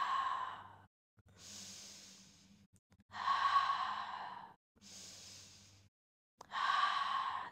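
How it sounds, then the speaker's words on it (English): Slow, deep breaths during a pilates mat session, with audible exhales and inhales close to the mic in a steady rhythm and short pauses between them. "And exhale."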